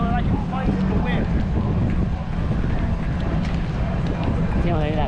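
Strong wind buffets a microphone aboard a sailboat run aground, roaring loud and close with constant gusty rumble and flapping, and voices can be heard faintly beneath it.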